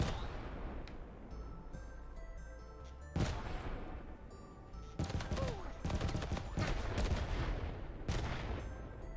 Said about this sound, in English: Here goes a carpet bomb.